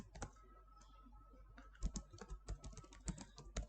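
JavaScript code is typed on a computer keyboard, with close, irregular key clicks in a few early taps, then denser bursts of keystrokes after a short pause, and no talking.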